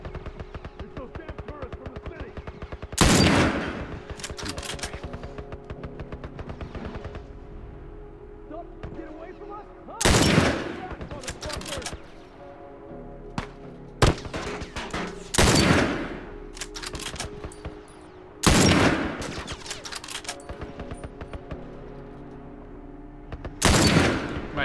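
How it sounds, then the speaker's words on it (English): Gunfire in The Last of Us rings out as several loud, sharp single shots spaced a few seconds apart over a quiet game ambience, with someone talking between them. "Just shooting out the floor."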